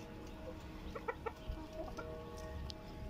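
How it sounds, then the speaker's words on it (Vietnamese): Backyard chickens in a Vietnamese home garden flock clucking in short, scattered bursts at moderate distance, with a faint rural background and no talk. "Đấy, gà của bà nhá."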